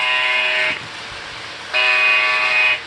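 Model train locomotive on a layout track sounding two loud, sustained horn blasts about a second each, separated by a short gap, over a low running rumble.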